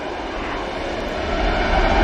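A regional airliner of Aer Lingus rolls along runway 23 right at Manchester Airport, a steady broadband engine roar that swells slightly toward the end, heard alone without voices.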